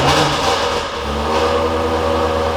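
A car engine roars loudly and steadily, its pitch shifting as it revs up, close and continuous throughout.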